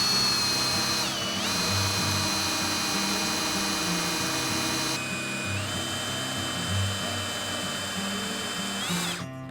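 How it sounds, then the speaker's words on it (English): A hand-held drill driving a small water pump for garden watering whines steadily and loudly throughout, its pitch dipping briefly under load a few times. "This is the drill pump"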